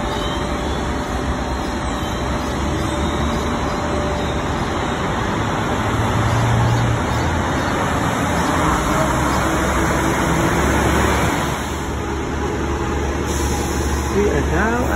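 Steady roadside street traffic at a bus stop near Kipling Station, a continuous broadband rumble of passing vehicles with constant high-pitched hum, moderately loud throughout with no talking.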